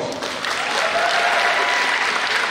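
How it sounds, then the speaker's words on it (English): A high school audience at a Decision Day event claps in a steady, dense burst of applause that holds evenly throughout. "give them a big round of applause"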